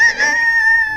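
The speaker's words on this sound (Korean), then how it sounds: "닭소리야." A rooster crows once in a loud, close, sustained call that holds steady and then trails off, heard alone with no talk over it.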